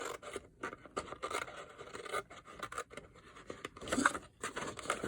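Scissors cutting paper in from the edge toward a score line, a quick series of close, crisp snipping and rasping strokes with short pauses, fairly quiet.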